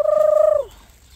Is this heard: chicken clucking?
yes